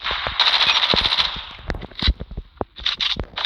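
MP5 submachine gun fired in the mobile shooter game Call of Duty Mobile, rapid full-auto bursts with sharp cracking reports, a sustained stream then shorter volleys after a brief pause, loud and close.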